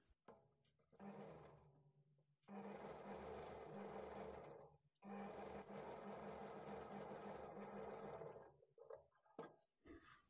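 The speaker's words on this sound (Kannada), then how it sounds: "ಎಡ್ಜಲ್ಲಿ ಸ್ಟಿಚ್ ಮಾಡ್ಕೊಳ್ಳೋಣ." A sewing machine stitches the folded edge of a blouse lining, running in three long steady bursts separated by brief pauses, close and alone.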